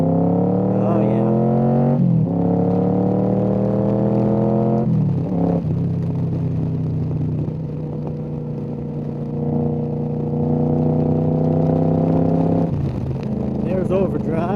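A Yamaha Royal Star 1300 V4 motorcycle engine, running rich and dumping too much fuel, accelerates out of first gear, loud and close, its steady harmonic drone climbing in pitch across gear changes.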